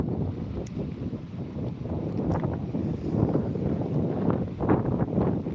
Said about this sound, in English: It's windy as fuck now.